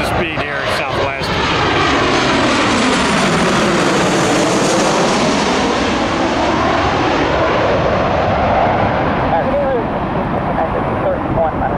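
A Southwest Airlines jet airliner passes close at Tampa International Airport, its engines a loud, sustained roar that swells and shifts pitch as it goes by, with people talking over it.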